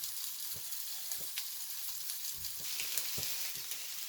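İnegöl köfte meatballs fry in a pan with a steady, bright sizzle. Scattered soft pops and taps sound throughout, and nobody speaks.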